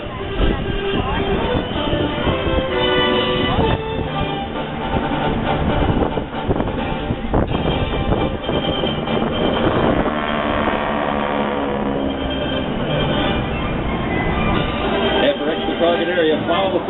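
Vintage World War II aircraft of the GEICO Skytypers squadron drone loudly overhead at the 2012 Atlantic City Airshow, a continuous engine roar under an announcer's voice over the public address.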